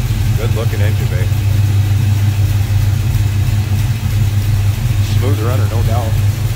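A 1964 Chevrolet El Camino V8 with an Edelbrock four-barrel carburetor and intake manifold, HEI ignition and twin electric fans idles steadily and smoothly nearby, a continuous low rumble under a voice.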